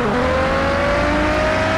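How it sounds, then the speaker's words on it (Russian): A Lamborghini in the Car Parking Multiplayer game accelerates hard, its engine note climbing steadily in pitch, loud and close, with a constant roar and no talking. "я газую к вам"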